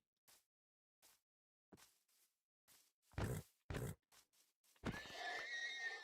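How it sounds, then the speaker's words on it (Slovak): A horse in the Minecraft video game makes short snorting and grunting sounds in scattered bursts, followed by a longer whinny near the end, with no talking. "Aha, kôň."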